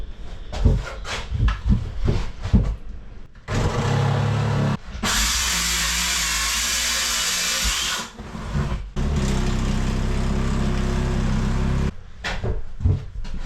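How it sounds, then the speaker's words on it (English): A reciprocating saw cuts through fiberglass during boat interior demolition, loud harsh buzzing in several bursts with short pauses and clattering handling noises between cuts. "the recip saw just has to cut the fiberglass"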